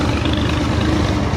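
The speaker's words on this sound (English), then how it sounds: "It's another tractor." A tractor engine rumbling steadily in a low, continuous drone, close and fairly loud without pause, with no talking over it.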